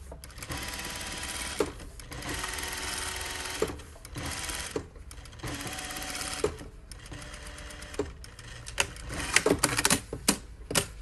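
A sewing machine stitches down the front of a Russian shirt in close, loud bursts of rapid whirring, broken by brief pauses and small clicks between runs.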